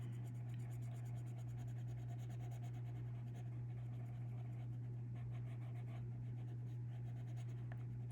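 A Prismacolor Premier peacock blue colored pencil rubs steadily across paper, making a faint continuous scratching over a low electrical hum.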